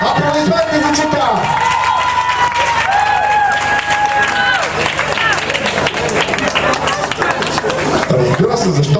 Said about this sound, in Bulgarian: Аплодисменти за Чита!